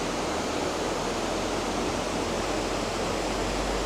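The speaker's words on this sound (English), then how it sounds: "water flying off the weir here." Water pouring steadily over a weir in a wetland ecological park in Hezhou, China, a dense continuous broadband rush close by with no talk over it.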